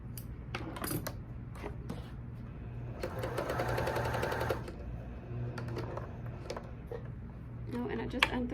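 Rapid mechanical chatter of a sewing machine stitching a burp cloth, one steady run of close stitching in the middle set between quieter clicks and handling noise, with a low hum underneath.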